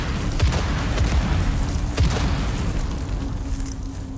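Explosions in the Dune video game boom repeatedly under a constant heavy low rumble, with several sharp thuds early on and a roaring, crackling wash throughout.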